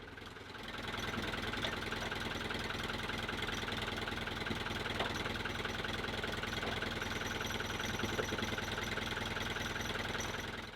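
An old tractor engine idles steadily nearby, a low knocking chug repeating evenly with no voices over it.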